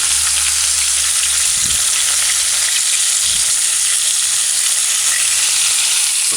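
Flour-coated chicken fries in a pan with a steady, loud, close sizzle and crackle that carries on throughout, plus a couple of faint low bumps.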